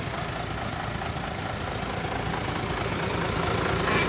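A Deere tractor engine idling steadily nearby, a continuous rough low rumble with mechanical chatter that holds even throughout and swells slightly at the end.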